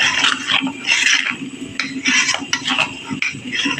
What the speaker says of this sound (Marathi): असं ढवळून घेते छान मिक्स करून